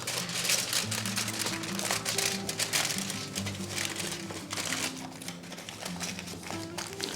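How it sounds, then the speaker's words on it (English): Aluminum foil crinkles and crackles quietly as it is folded over the sides of a pan, with soft taps and rustles coming in irregular bursts. "But if I fold this aluminum foil over, that creates 2 layers for the side."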